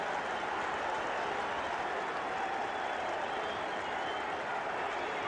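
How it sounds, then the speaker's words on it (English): A First Division football crowd at the Goldstone Ground, Brighton against Liverpool, roars after a late equaliser, a dense, unbroken wash of cheering and clapping from a distance. "And the crowd going absolutely berserk."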